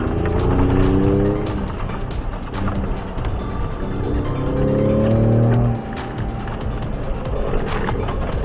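A Ford Raptor truck accelerates hard through a driving assault course in Salt Lake City, Utah, its engine rising in rising sweeps twice, loud and close, with tire and wind roar throughout.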